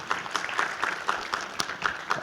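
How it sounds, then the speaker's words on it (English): At a Three Minute Thesis competition event, an audience applauds a speaker. The clapping is moderate and somewhat distant, with individual claps audible in a loose rhythm for a couple of seconds. "Everyone give Samantha a round of applause."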